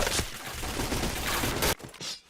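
Rapid bursts of gunfire from the Point Blank video game, a dense fusillade of shots running continuously for about a second and a half before cutting off sharply, followed by quieter game sounds.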